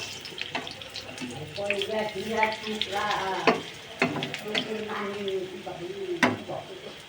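Bean chops frying in oil give a bubbling sizzle mixed with scraping and tapping from turning the pieces, heard close and fairly quiet throughout.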